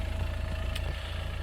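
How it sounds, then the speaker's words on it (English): A low, steady rumble from a Ford Transit Custom 2.2 six-gear van with a suspected drive shaft fault, droning evenly and continuously with no talk. "Just a wee bit of a rumble. I assume it's from the drive shaft on the passenger driver side"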